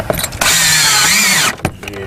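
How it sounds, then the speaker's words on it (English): A power drill bores into vinyl siding during a cable installation, giving one loud, steady whine of about a second that rises and falls slightly in pitch. Brief clicks and handling noises come before and after it. "when you're drilling in the vinyl"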